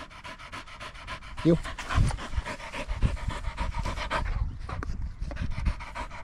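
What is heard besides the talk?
dog panting after retrieves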